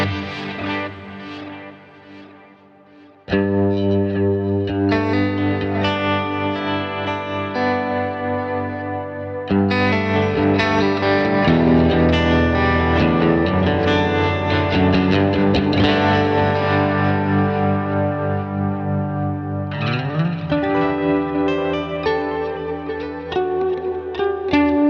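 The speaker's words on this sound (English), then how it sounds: "So let's turn on all the delays, and we have the modulated on and the shimmer on." Electric guitar played through stacked delays with modulation and shimmer engaged, sustained chords blooming into a dense, washy, echoing tail that fills the whole stretch, loud and continuous with a brief dip before a fresh strum.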